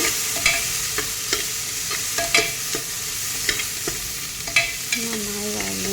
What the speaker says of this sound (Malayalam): മഞ്ഞൾപ്പൊടി ഇട്ടിട്ട് ഒന്ന് ഇളക്കി കൊടുക്കുക